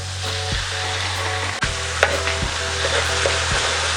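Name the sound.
stirring soy sauce into frying beef in a pan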